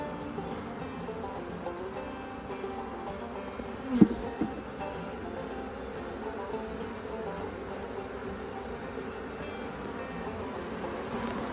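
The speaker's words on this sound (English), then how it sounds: "There's a bee in my jacket." Honeybees buzz steadily around an open hive during a spring inspection, a close, continuous drone with a brief knock or bump partway through.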